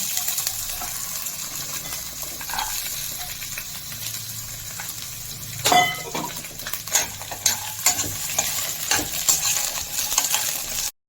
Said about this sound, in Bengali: তেলটা গরম হয়ে গেছে, এবার বাদামগুলোকে আমি ভেজে নেব।